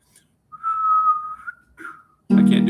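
A single person whistles a clear, close tune phrase: a sustained wavering note, then a short second note. A voice cuts in loudly right after.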